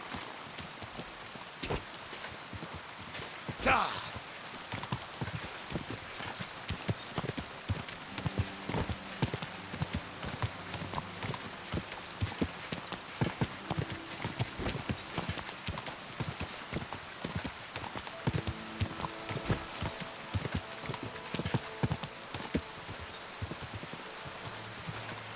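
A horse trotting in the Kingdom Come: Deliverance II video game, with a continuous rhythmic clip-clop of hooves mixed with faint rain-like patter and occasional soft game tones, no speech.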